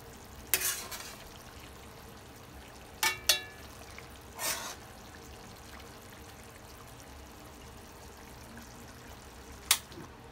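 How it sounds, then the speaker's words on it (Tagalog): A few soft, brief scrapes of a spoon stirring cooked bitter gourd (ampalaya) con carne in a pan, spaced out over a quiet background, with one last scrape near the end. "since luto na po ang ating ampalaya, haluin lang po natin ng konti"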